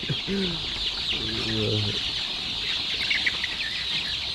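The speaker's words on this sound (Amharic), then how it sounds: "አትረብሹኝ እናንተ ዶሮች" A few short clucks from chickens near the start, then a steady hiss of insects and outdoor background noise.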